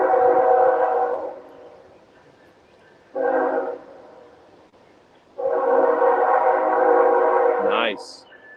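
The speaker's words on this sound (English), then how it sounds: "Oh, there's the train." A train passes with its horn sounding in three loud blasts: a long opening blast, a short middle one and a long final one, over low rumble.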